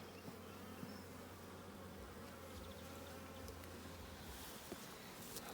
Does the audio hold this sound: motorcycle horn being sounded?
no